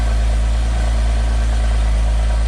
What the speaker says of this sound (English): So that's the standard exhaust.